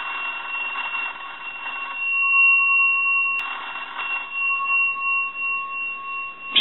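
Two ring bursts from a Western Electric Rotary 202 telephone's bell box, each a bright, rapid metallic trill lasting about two seconds, separated by a short silent gap and heard up close.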